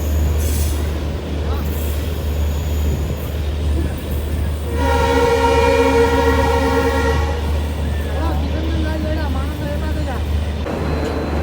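The Katihar–Siliguri Intercity Express rolls along with steady rumble and clatter, a horn sounding for a few seconds in the middle and wheels squealing briefly, heard from on board while someone talks throughout.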